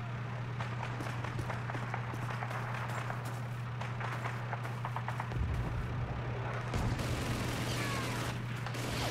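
Gunfire in the World War II shooter Call of Duty 2, British campaign at the Battle for Caen: a steady, continuous wash of distant battle noise with scattered shots over a constant low hum, louder crackling near the end.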